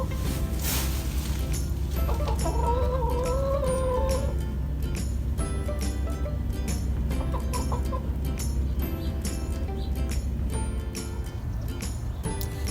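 Chickens cluck steadily around a backyard chicken coop, with a rising, warbling call standing out for a couple of seconds over a constant outdoor bed of sound.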